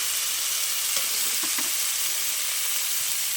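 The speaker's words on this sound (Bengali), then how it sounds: "দিয়ে দেবো 1 চা চামচ আদা বাটা, ভালো করে আমি ভেজে নেব" Ginger paste fries in hot oil with a dense, steady sizzle, close and fairly loud, with a couple of faint utensil scrapes in the middle.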